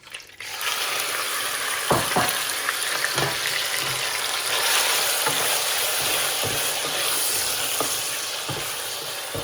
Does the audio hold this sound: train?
no